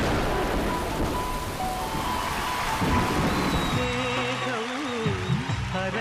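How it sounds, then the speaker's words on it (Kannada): Steady heavy rain pours with deep rolling thunder rumbling beneath it, then music with a singing voice enters partway through and plays over the storm. "ಮಳೆ, ಗುಡುಗು, ಸಿಡಿಲು"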